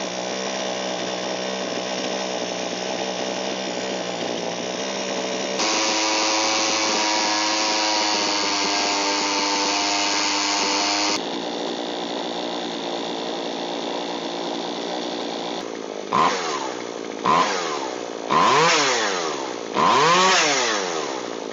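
A secondhand McCulloch chainsaw engine runs steadily, shifts between idle and higher speed, then gets several quick throttle blips that rise and fall, loud and close.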